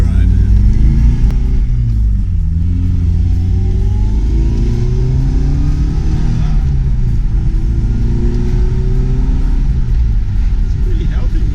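A 1988 Porsche 951 S2 convertible drives along, its engine rumbling loudly and steadily with gear-change rises and falls in pitch, heard from inside the car with talk over it.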